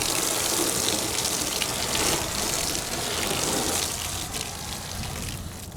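A car wash foam cannon sprayer fitted with a longer head gushing water and thin soap in a continuous, close, loud spray that holds steady before easing slightly near the end.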